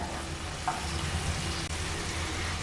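Chopped tomato, four green chilies and boiled chana dal sizzle in a pan with spinach, giving a steady close frying hiss with light stirring.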